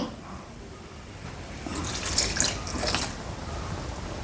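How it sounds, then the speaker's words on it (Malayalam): Water runs and splashes briefly into a pan, a soft gurgling pour lasting about a second in a quiet room. "ഒരല്പം കൂടെ വെള്ളം വേണ്ടി വരും"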